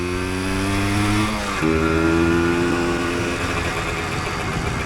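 The engine of a 1988 Yamaha DT200 motorcycle runs loud and close, a buzzy two-stroke tone that dips briefly and then picks back up to a steady idle, with no one speaking.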